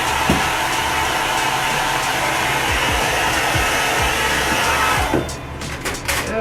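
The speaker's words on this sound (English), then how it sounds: "blow drying this transfer so I can put it over by the blue one" Hair dryer blowing hot air over a chalk transfer during a craft project, a loud continuous close whoosh that holds steady for several seconds and dips slightly at the end.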